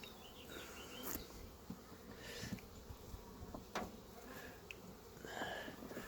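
Russian honey bees buzz steadily around a queen at close range, a continuous insect drone with brief louder passes and handling clicks, no talking.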